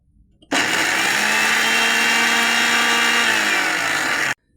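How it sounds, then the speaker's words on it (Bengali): A kitchen blender grinds about four spoons of sugar into powder, one continuous loud whirring run of a few seconds that starts abruptly and cuts off cleanly, with no talking. "এবার চিনিটাকে ব্লেন্ড করে নেব।"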